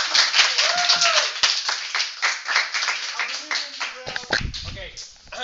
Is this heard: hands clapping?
yes